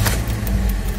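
Toyota car engine catching and settling into a steady, close, rumbling idle, alone without talk.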